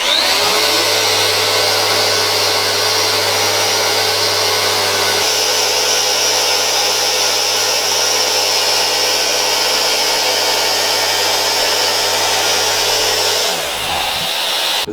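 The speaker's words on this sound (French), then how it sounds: "Je viens de passer la machine sur le delta, j'ai changé le plateau de ponçage" A Festool Rotex sander with a delta sanding pad runs continuously as a loud, steady, close whine with a low motor drone, dropping in pitch as it winds down near the end.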